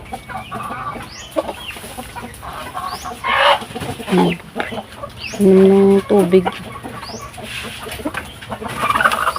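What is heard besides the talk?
pet chickens clucking while being fed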